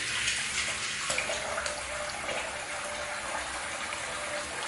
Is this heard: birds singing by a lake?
no